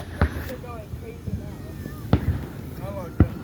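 Grand finale of a fireworks show, with several sharp booms and crackling bursts at irregular intervals, some echoing as distant whistles, while people chatter nearby throughout.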